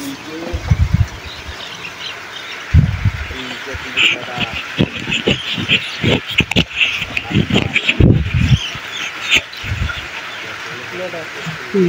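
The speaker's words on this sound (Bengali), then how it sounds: "দেখতে পাচ্ছেন আমরা মুরগি ধরতেছি।" Seven-day-old broiler chickens from a poultry shed are caught by hand and squawk and chirp in repeated sharp bursts, close and loud, amid thumping, scuffling handling noise.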